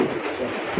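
A male red pigeon coos once, a short, low, throaty burst heard close and fairly clear.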